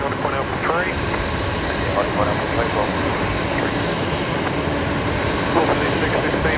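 A Virgin Australia jet taxis along a taxiway at Brisbane Airport at night, its steady engine rumble and whine filling the background continuously while people talk nearby.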